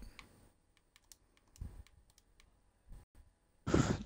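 Keys clatter on a computer keyboard during a livestream, sparse light clicks and short bursts of typing, closing in a louder flurry of keystrokes, with no voices.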